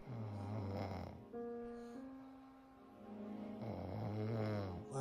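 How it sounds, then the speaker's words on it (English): A woman snores loudly and close by in slow, rattling cycles, with a long buzzing, tonal snore in the middle and no talking. "she over there snoring loud as hell"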